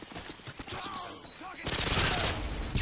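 Call of Duty MW2 gunfire erupts in a dense burst of rapid shots after a stretch of game sounds and talk, loud and harsh to the end.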